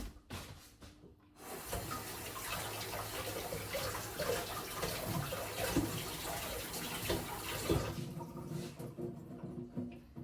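Coriander being rinsed under a running kitchen tap: a steady, moderately loud rush and splash of water for several seconds, starting and stopping abruptly, with no talking.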